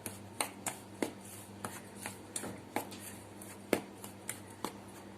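Eggless cake batter being whisked by hand, a steady series of sharp, close taps and clicks from the whisk against the bowl, roughly two per second, with a low background hum and no talking.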